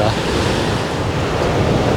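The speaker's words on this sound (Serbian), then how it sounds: "Ovdje često duvaju jaki vetrovi koji stvaraju talase" Steady roar of Atlantic surf on a long beach mixed with gusty wind buffeting the microphone, a dense continuous wash of sound with no voices.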